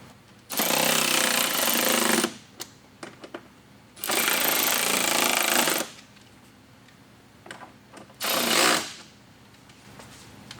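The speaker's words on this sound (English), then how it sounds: "we're now going to take our screwdriver again and fully tighten down all the mounting points" A power screwdriver tightens the mounting screws of a Rokblokz mud flap on a 2022+ Hyundai Santa Cruz, sounding in three loud, close whirring bursts with brief quiet gaps and small clicks between them.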